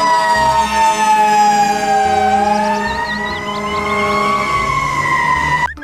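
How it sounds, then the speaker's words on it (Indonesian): A loud toy fire engine siren wails steadily and alone, rising and falling slowly, with a faint rapid warble on top before it cuts off abruptly. "di sini ada mobil damkar atau mobil pemadam kebakaran ya."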